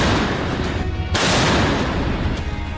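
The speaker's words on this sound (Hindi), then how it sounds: "ये तोप 1 मिनट में 155 mm के 9 गोले दाग सकती है।" German PzH 2000 155 mm self-propelled howitzer firing in a war zone, loud dense booming blasts over continuous heavy rumbling noise, with sharp reports near the start and middle, no voices.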